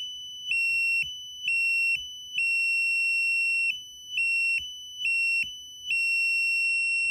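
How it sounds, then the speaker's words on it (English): Piezo buzzer wired to a Raspberry Pi 4 sounding a piercing, high-pitched electronic beep like a fire alarm, in repeated on-off pulses of uneven length, loud and close with no talking. "that's the buzzer. Think of it like a fire alarm."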